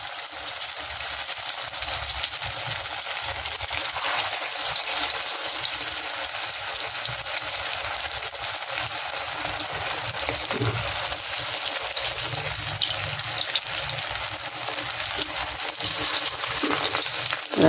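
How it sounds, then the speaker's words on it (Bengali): Stuffed pointed gourd (potol) fries on low heat in a covered pan, giving a steady, dense sizzle that carries unbroken and fairly loud from start to finish. "এটা কিন্তু একটু আস্তে কম আজে ঢাকা দিয়ে ভাজতে হবে"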